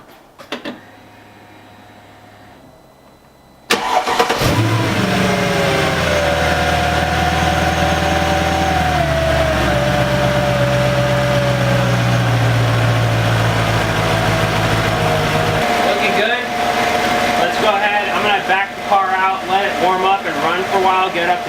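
A Mercedes C55 AMG, just repaired after a crankshaft position sensor failure, cranks and fires up with a loud surge, revs briefly, then settles into a steady, close idle that runs on with some faint handling noise.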